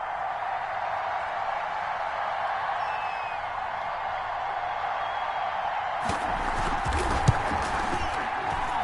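Stadium crowd noise from an American football video game on PS4: a steady, broad crowd roar throughout, swelling louder and busier in the last few seconds with scattered sharper cheers and claps.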